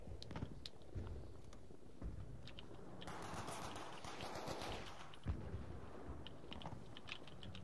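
Gunfire in a video game comes in scattered single shots and short bursts, quiet and close, mixed with clicking keys and a louder stretch of rattling noise in the middle.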